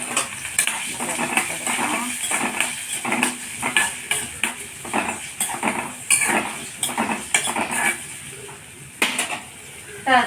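Chopped shallots, tomato and garlic dropped into hot oil, with a crackling fry under busy, rhythmic clinks and scrapes of a metal spoon against the pan.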